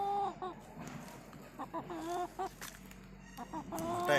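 Roosters fighting, giving short squawks, clucks and harsh cries in bursts of varying loudness, close by with no talk.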